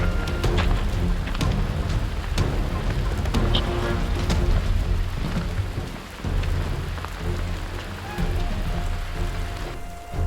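Heavy rain pours down in a steady dense roar on an Alpine hiking trail, close and loud throughout, with a low rumble of thunder in places.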